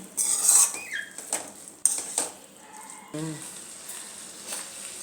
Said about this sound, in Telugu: వాటిని యాడ్ చేసిన తర్వాత నీట్గా మిక్స్ చేసుకోవాలి.